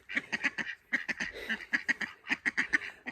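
Backyard ducks quack in a rapid, close, moderately loud chorus of nasal calls, coming in three quick bursts without talk.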